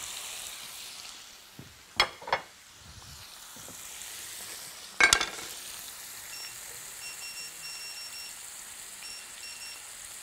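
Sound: shrimp with garlic frying in a pan

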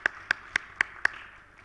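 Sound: audience applause for the panel

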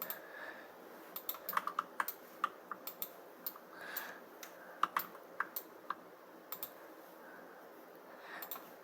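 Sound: computer mouse clicks and keyboard typing

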